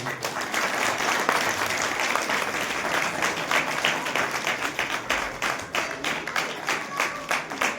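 Loud, dense applause fills a church gathering during a Christmas sermon, many hands clapping steadily and evenly throughout before the claps grow more separated and rhythmic toward the end.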